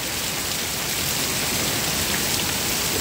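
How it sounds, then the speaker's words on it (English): Heavy rain pours down in a storm over a swamp, a dense, unbroken roar of water that stays loud and steady throughout, with no voices. "Insane amount of rain coming down now."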